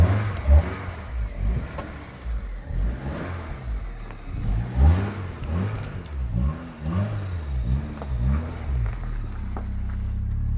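An MG ZR160 car engine revving repeatedly, a series of rising and falling rasping sweeps close by, ending in a steady idle.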